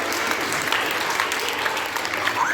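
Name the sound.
audience applause at a school science quiz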